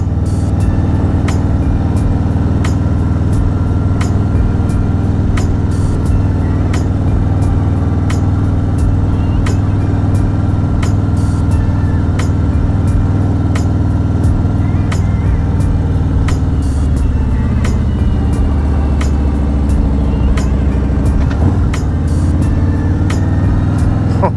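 Car engine pulling in second gear on a drive through Texas hill country near Bandera, a loud, steady low rumble with faint ticking over it throughout.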